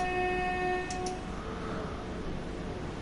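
A train horn sounds in the Train Sim World 2 game on the Southeastern Highspeed line, a steady two-tone blast lasting about a second at the start, followed by rumbling rail and cab noise.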